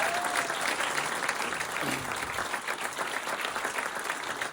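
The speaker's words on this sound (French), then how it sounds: "Vous pouvez les applaudir." A comedy show audience applauds in a theater, a thick continuous roar of many hands clapping, steady and moderately loud for several seconds, with a brief voice faintly underneath.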